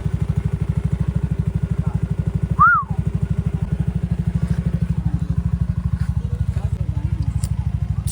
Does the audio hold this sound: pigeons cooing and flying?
no